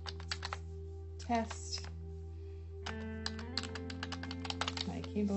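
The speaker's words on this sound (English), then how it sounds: "My keyboard has stopped working." Typing on a computer keyboard during software work, quick bursts of light key clicks with short pauses between them, while someone talks quietly.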